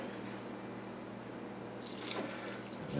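Water pours briefly into a bowl of instant yeast for almond croissant dough, a short splashing trickle in a quiet kitchen with a steady background hum.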